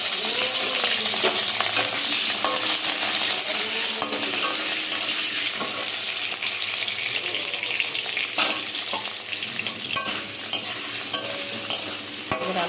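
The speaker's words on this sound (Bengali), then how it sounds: "এবার আলুটা ভাজা হোক" Potato pieces fry in hot oil with cumin seeds, dried red chili and bay leaves, giving a steady loud sizzle with occasional clinks of a spatula stirring the pan and no talking.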